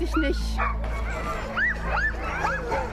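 Sled dogs at the start of a dog sled race with seventeen teams, yipping, whining and barking excitedly in short rising cries over a steady low rumble of crowd noise, with voices talking nearby.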